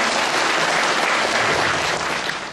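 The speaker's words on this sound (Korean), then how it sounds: "박수 좀 보내주십시오" Wedding guests at a Korean ceremony break into steady, dense applause that fills the room from start to finish with no pauses, loud and close, with no voices on top.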